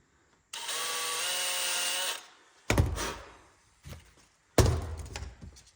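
A power drill drives countersunk screws to bolt something down: one steady whirring burst of about a second and a half, then several sharp thunks and clatters follow close by.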